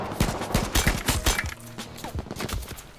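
Rapid gunfire in the video game H1Z1, a dense volley of sharp, loud shots in quick succession, some bursts overlapping, with no talking.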